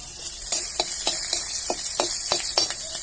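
Garlic and chili sizzle in hot oil for a red lentil dal, a continuous close frying hiss broken by repeated sharp scrapes and taps of stirring.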